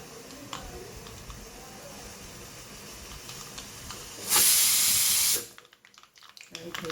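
Mustard seeds dropped into hot oil for a tindora and potato curry give a sudden loud sizzling hiss that lasts about a second before cutting off, over quiet room noise.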